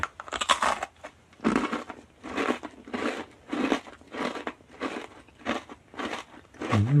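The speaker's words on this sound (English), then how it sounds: "Some people think these crunching sounds are fake." Blue raspberry crystal candy crunched between the teeth in eight or nine loud, close, evenly spaced bites, each a bright crackling crush with brief pauses between and no talking.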